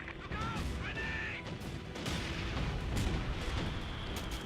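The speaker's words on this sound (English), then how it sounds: "Mortar half track is putting down range." Mortar half-track shelling in the Company of Heroes 2 strategy game, dull booming impacts rolling under constant battle noise and other game sounds, moderately loud and continuous across the stretch.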